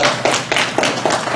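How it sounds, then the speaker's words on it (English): Audience at a Dallas training program clapping to welcome arriving ladies: a short burst of applause with a few louder, distinct claps standing out, fairly close and brief. "Give them a round of applause for coming."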